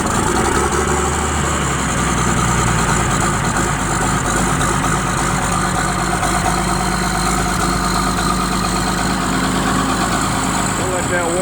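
A Case-IH 5140 tractor diesel starts cold at 15 degrees F and idles with a loud, steady low rumble and clattering vibration that fills the whole stretch, with people talking over it.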